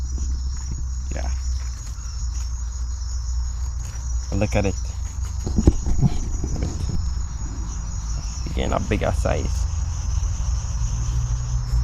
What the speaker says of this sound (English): hearing other frogs in the background